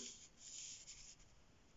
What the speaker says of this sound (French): Je vais écrire 145